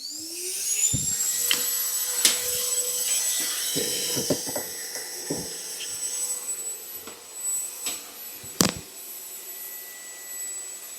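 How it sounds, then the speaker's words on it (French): A small vacuum cleaner with a large hose whines steadily at a high pitch, with intermittent clunks and bumps as the hose is moved around. "maintenant, on teste avec petit aspirateur, mais gros tuyau."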